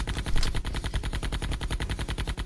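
Rapid automatic gunfire from the Army Men: Sarge's Heroes 2 video game, an even, unbroken stream of sharp repeated shots at moderate level with no talk.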